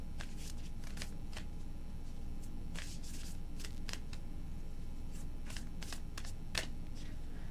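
Tarot cards being shuffled by hand in quick, crisp bursts of riffling and sliding, several separate shuffles close and quiet with short gaps between them.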